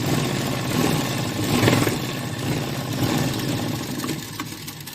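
A sewing machine runs steadily at close range, a continuous mechanical whirring with a rapid stitching rattle, as it sews a straight seam on the lining side of a mirror-work blouse.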